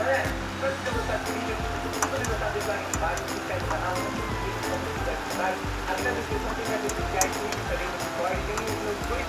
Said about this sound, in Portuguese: Caiu água mesmo, pessoal.